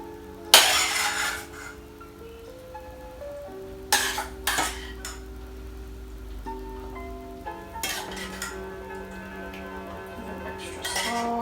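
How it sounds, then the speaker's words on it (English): Crispy chilli beef being spooned into a bowl, with a few sharp clinks and scrapes of a spoon against the dish standing out over a soft steady background hum. "And then in a bowl, spoon your beef out."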